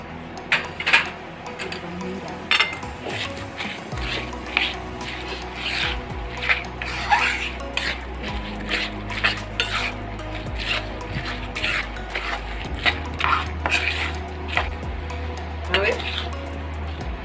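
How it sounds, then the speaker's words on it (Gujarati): Jaggery being stirred into a cooling mixture in a pan for Gujarati sukhadi, with repeated scraping and clinking of a spoon against the metal pan at a close, steady rhythm over a low background hum. "હવે આપણે તેમાં ગોળ મિક્સ કરીશું"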